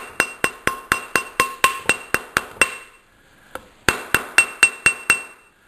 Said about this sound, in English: kind of whack it with the hammer a little bit.